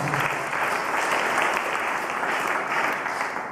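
An audience at a church service held in Cipinang prison claps steadily in a continuous burst, a dense even patter of hands heard alone without voices.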